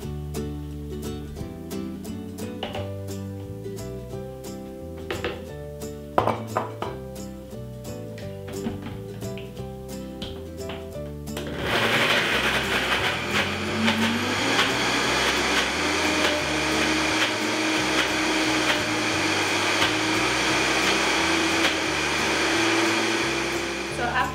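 A blender whirring a non-dairy chocolate mousse, starting midway as a loud continuous motor hum after a stretch of background music and talk, then running steadily to the end.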